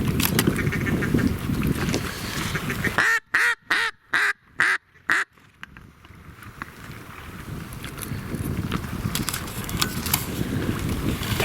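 Mallard ducks quacking at a winter duck hunt, several faint quacks out in the open, with a burst of sharp choppy wind or handling noise in the middle.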